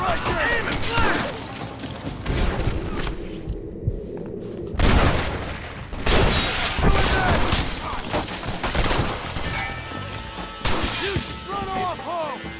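Volley of gunfire in the Western video game Red Dead Redemption, with loud overlapping shots and shattering crashes in repeated bursts, a brief lull midway, and shouted voices mixed in.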